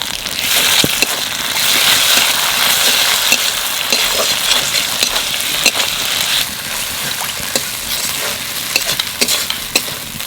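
Ginger, garlic and onion with spices sizzle and fry steadily in a pan for a country chicken curry, a dense continuous crackle with frequent stirring scrapes and clinks throughout, close and fairly loud with no talking.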